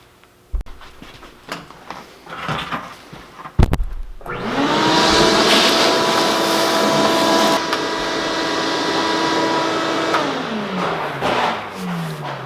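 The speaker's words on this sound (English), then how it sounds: "Alright, let's get the vacuum out." A vacuum cleaner starts after a few knocks and clatters, then runs with a steady loud whine and drone, close by, before its pitch winds down.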